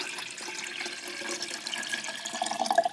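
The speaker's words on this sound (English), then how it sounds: "Here, I need to pour it faster." Bottled water pours into a kettle in Bali as a steady, splashy trickle that grows slightly louder and gurgles toward the end.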